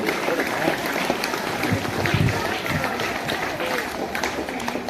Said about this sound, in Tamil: ஓவிய ஆசிரியர்கள் கைத்தட்டுங்க